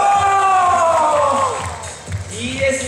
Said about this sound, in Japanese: 今度は後ろのお父さんお母さん皆さん、大きな声で歓声をお願いします。